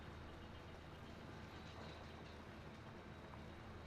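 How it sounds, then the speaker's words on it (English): Train rolling along in Farming Simulator 25: a steady, dense rumble of engine and rail noise, continuous and even throughout with no pauses. "You're driving a train."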